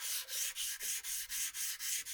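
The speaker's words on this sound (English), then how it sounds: "And then sanding it even afterwards." Sanding a vintage watch clasp by hand, giving a close, bright, rhythmic rasp in even back-and-forth strokes, about four per second, with nothing else audible.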